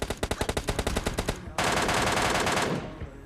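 M4 rifle gunfire in PUBG Mobile Lite, a rapid burst of about a dozen evenly spaced automatic shots followed by a dense, continuous roar of fire that fades out near the end.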